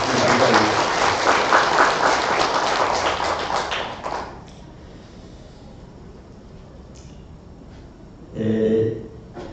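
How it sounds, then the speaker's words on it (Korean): A church congregation claps steadily for children for about four seconds, then the applause fades into quiet room tone before a brief burst of sound near the end. "힘찬 박수를 한번 아이들에게"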